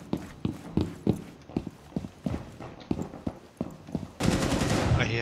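Rapid bursts of gunfire in the Rainbow Six Siege video game, a run of sharp shots in quick succession followed by a louder, sustained noisy stretch at the end.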